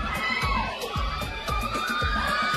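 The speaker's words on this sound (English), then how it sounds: "Give it up. Round of applause." A crowd at a high school pageant cheers and shouts, with whoops and excited voices that rise and fall for a few seconds. Dense noise from the audience, mostly voices, with little clear clapping.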